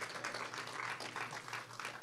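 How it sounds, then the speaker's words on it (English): A town gathering in Essex gives a quiet round of applause, with scattered hand claps blending into a soft, continuous patter, distant and faint, with no voices. "please join me again in giving a round of applause to Anne for her great work"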